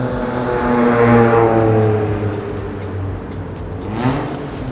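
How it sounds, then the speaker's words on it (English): Cars roll into an underground car meet in Osaka, one passing close with a steady engine hum that rises and fades, and another approaching near the end. "I'm gonna stay out here for a little bit and kind of check out the cars rolling in"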